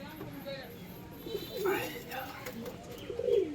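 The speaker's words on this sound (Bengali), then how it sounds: "হেবি সুন্দর পায়রা" Punjabi Malwahi pigeons coo softly at close range, low murmuring calls rising now and then under a man's speech and faint background noise.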